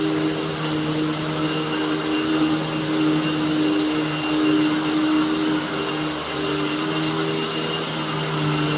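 A vacuum cleaner fitted with a HEPA bag running continuously at full power, a loud, steady motor roar with a high whine and an even airflow hiss, unchanging throughout and with no talking.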